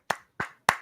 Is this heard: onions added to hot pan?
no